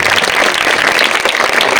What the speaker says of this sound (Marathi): एकदा जोरात टाळ्या वाजवा बरं अजून जोरात